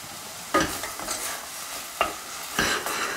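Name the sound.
mushrooms and shallots sautéing in a pan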